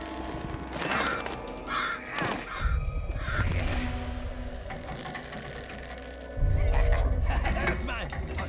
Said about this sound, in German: Da ist ein Vögelchen.